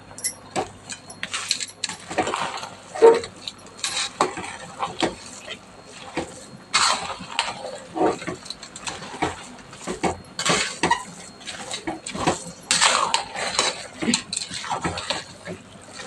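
A spoon scrapes and clinks steadily against a metal pot as jaggery is stirred into cooked rice, making a busy stream of close metallic taps and rubs with no talking.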